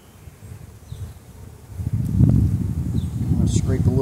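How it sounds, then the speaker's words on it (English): Honey bees buzz around an opened hive during an inspection of an overwintered nuc, a soft steady drone that swells louder midway, with a voice talking over it. "Seeing a lot of fuzzy young bees."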